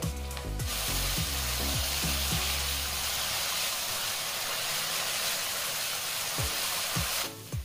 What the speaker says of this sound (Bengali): এবারে এই মশলাগুলো ভালো করে কষিয়ে নেব।